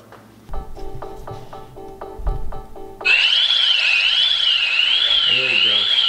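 A Ring Alarm 2nd Gen home security keypad beeps in a steady repeated pattern of short tones, then breaks into a loud, continuous warbling siren that holds to the end, close and piercing, with a voice speaking briefly underneath.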